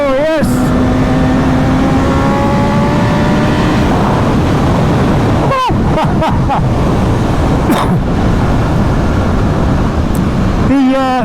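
BMW S1000RR Gen 2 superbike accelerating hard in race mode, loud rising engine tones with gear shifts, heavy wind roar throughout, a rider talking over it.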